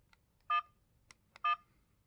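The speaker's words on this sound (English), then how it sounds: "That beep sound you're hearing, you can turn that on and off." An Apeman C660 dash cam gives two short, clear electronic menu beeps about a second apart, each a bright tone over near silence, with a few fainter clicks between them.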